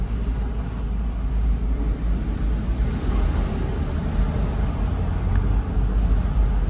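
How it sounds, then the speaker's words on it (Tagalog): Steady road traffic in Canada, cars including Teslas and trucks rolling past on a multi-lane road, a continuous loud low rumble with no voices. "Sa mga nakakita sa ganitong traffic sa Canada, hindi lang EDSA ang matraffic"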